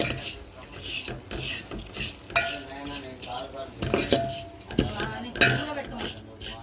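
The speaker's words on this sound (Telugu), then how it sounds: "ఇంకా ఇవి లైట్గా వేయించుకున్నామండి నెయ్యిలో" Sago pearls lightly frying in ghee, a soft close sizzle broken by repeated scraping and clinking of a spoon against the pan, irregular stirring strokes with no speech.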